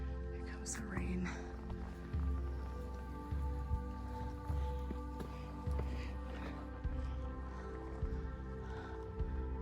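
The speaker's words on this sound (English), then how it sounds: "The rain." Steady rain patters on a surface in the background, with soft thumping steps and movement occurring every second or so over a constant low hum.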